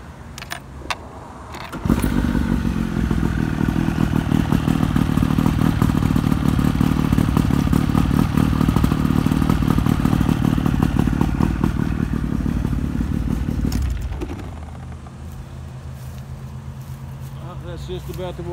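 A Monark boat engine cranks and catches, then runs loud and steady for about twelve seconds before dropping to a lower idle.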